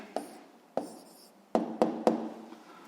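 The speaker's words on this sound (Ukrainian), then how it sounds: "Ну що ж, записуємо відповідь." A pen jots down an answer on paper in a few quick strokes, light scratchy taps and short scrapes, close and isolated.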